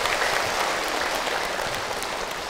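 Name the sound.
audience applause for a questioner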